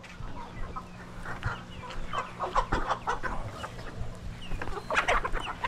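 Chickens on a farm in the Philippines cluck softly and steadily nearby, with scattered louder clucks over a low background hum.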